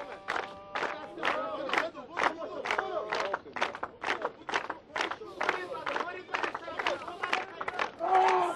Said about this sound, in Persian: تشویقش بکنید.